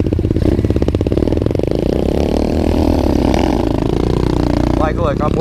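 Close, buzzy single-cylinder engine note from an SSR 125 pit bike on a trail ride, revs rising and falling continuously with throttle changes, loud throughout, with a voice briefly near the end.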